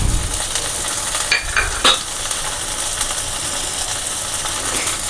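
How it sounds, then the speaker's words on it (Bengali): Peas, sweet corn and beans frying in a kadai give a steady soft sizzle, with a few sharp scrapes and clinks of a spoon stirring against the pan partway through. "এর মধ্যে দিয়ে দিলাম কড়াইশুঁটি, সুইটকর্ন আর দিয়ে দিচ্ছি বিনস।"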